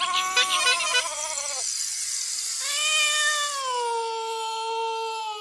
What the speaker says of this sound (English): Meow, says the cat.